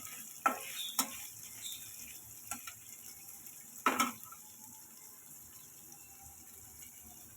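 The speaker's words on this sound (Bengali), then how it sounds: "পেঁয়াজ কুচি ভালো করে নাড়াচাড়া করতে থাকবেন যতক্ষণ না গোল্ডেন ব্রাউন হয়ে যাচ্ছে।" Chopped onions frying in a pan with a steady soft sizzle, a spoon scraping and stirring in a few sharp knocks near the start and middle, no talking.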